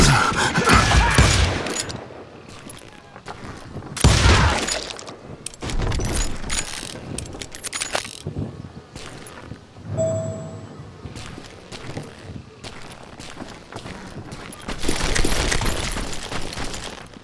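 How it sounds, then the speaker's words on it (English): Gunfire from hired gunmen in the Western shooter game Call of Juarez Gunslinger, with bursts of shots and mechanical clatter rising and falling over game ambience, loudest at the start, around four seconds and near the end. "Sounds like Garrett hired a whole regiment of hired guns"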